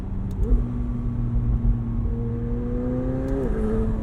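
A 2020 McLaren 720S Spider with its top down drones at a steady engine note that rises in pitch, holds, then drops back, heard from inside the open cabin with wind rush beneath and no talking.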